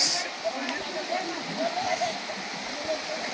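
A waterfall in Goa, flowing over rocks, gives a continuous broad roar, moderately loud and steady, with faint murmuring voices underneath.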